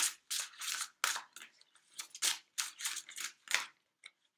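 Tarot cards are handled and drawn during a reading: a series of crisp papery swishes and flicks in quick bursts, close up, with no talking.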